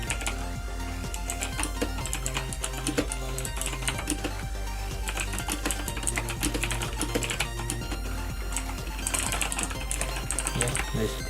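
Rapid clicking of Motospeed GK89 mechanical gaming keyboard keys, steady and busy, close up with a faint hum behind the keystrokes.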